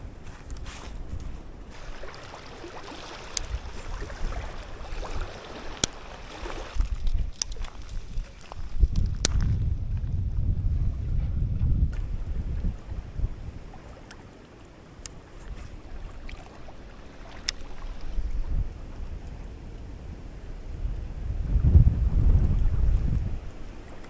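Wind gusts buffet the microphone while fishing from a boat, rumbling in waves that swell and ease, loudest around the middle and near the end, with occasional small clicks and knocks of gear.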